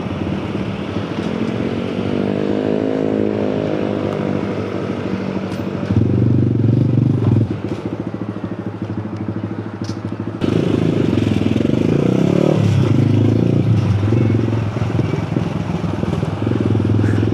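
A Honda Grom MSX motorcycle riding through Pattaya city traffic, its small engine droning loudly and steadily with rises in revs and wind buffeting, heard close from the rider's position.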